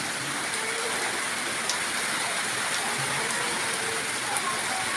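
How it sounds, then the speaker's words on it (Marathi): Steady heavy rain hisses continuously, a dense, even wash of noise with occasional louder drops, no voices. "नुसता पाऊस चालू झालेला आहे"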